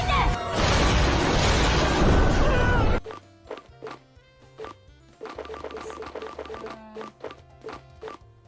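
A loud, dense Explosion attack in Pokemon Pearl roars for about three seconds, then cuts to chiming game music and short menu beeps.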